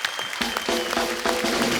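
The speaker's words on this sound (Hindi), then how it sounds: "जोरदार तालियां हो जाए" A studio audience on The Kapil Sharma Show claps enthusiastically, dense applause building quickly and continuing steadily throughout.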